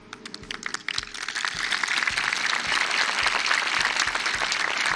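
Big applause at a Mexican Navy Day ceremony honoring generals, starting with a few sharp claps and swelling into a dense, sustained ovation from a large crowd, with occasional heavy thuds beneath.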